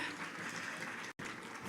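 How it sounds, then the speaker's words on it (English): Audience applause at an empowerment event in Kano, a dense, fairly faint wash of clapping from a crowd with a sudden brief cut in the sound. "Please, a round of applause once again."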